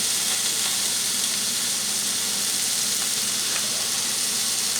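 Beef simmering in stock in a Curtis Stone grill pan, giving a steady, loud, unbroken sizzle and bubbling hiss close up, with no talking.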